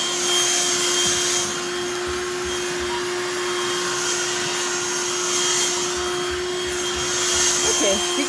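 A BLACK+DECKER Dustbuster cordless handheld vacuum cleaner runs with a steady, close whine and airy rush that holds level throughout, with a slight rise near the end.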